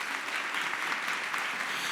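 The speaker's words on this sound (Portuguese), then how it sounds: "Você pode aplaudir Jesus por isso?" A church congregation at a women's service applauds in a dense, sustained burst of many hands clapping, full and steady without pause.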